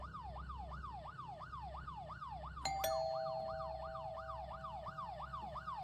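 A wailing police siren in a horror video game cycles steadily up and down throughout, joined midway by a sharp two-note chime that lingers.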